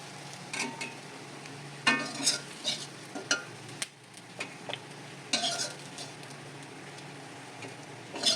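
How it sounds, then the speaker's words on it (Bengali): Potatoes fry with a soft, steady sizzle while a utensil scrapes and clinks against the pan in irregular stirring strokes, close by. "আমার আলুটা ভাজা হয়ে গেছে"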